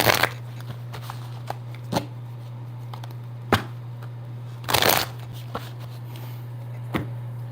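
Tarot cards shuffled by hand in short crisp riffling bursts, several separate shuffles spread across the stretch with a steady low hum underneath, no talking.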